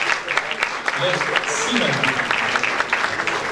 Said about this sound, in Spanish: vamos a pedir un fuerte aplauso